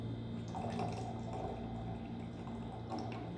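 Canned tin milk pours from a freshly opened can straight into watermelon as a soft, continuous liquid trickle, fairly faint and close.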